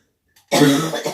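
A single close, harsh cough bursts out after a brief silence from someone working with soda ash while binding presoaked fabric for tie dye, rough and throaty, sounding partly like throat clearing.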